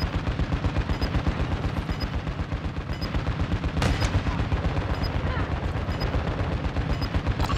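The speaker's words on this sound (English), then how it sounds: "They're shooting at me" Rapid machine-gun fire in Modern Warfare II hammers out in a steady, fast stream of loud shots that runs the whole stretch, with one heavier burst partway through.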